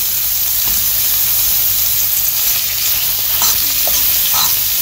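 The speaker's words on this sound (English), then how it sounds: "Just give it a stir because we don't want them to burn" Moringa drumsticks fry in a pan under a loud, steady sizzle, with a few soft scrapes and clicks from stirring, no speech.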